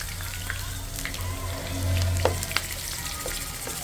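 Garlic and onion frying in hot oil in a pan while cooking adobo in coconut milk, a steady close crackling sizzle with scattered pops and a low hum beneath.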